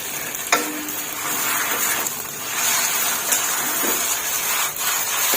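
Steady sizzling and scraping as wide rice noodles are stir-fried in a hot wok, with a utensil clanking and stirring close up throughout.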